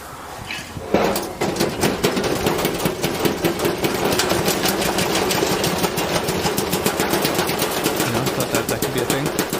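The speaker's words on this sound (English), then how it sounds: "The dryer self-destructing." A dryer self-destructing in The Outer Worlds video game gives off a loud, continuous mechanical clatter of rapid, rhythmic banging that starts abruptly and keeps a steady hammering pulse throughout.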